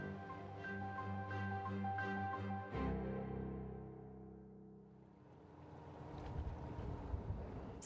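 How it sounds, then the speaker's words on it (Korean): A fishing boat engine drones with a steady harmonic hum before dawn off Gijang, Busan, changes pitch and fades, then wind and rushing water rise as the vessel moves. "새벽 3시 물살을 가르는 엔진 소리가 한밤의 정적을 깨웁니다."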